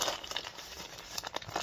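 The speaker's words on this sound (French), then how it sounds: "Sac en papier." A paper seed bag handled and crumpled by hand, giving a close series of short, crisp crinkling rustles in irregular bursts.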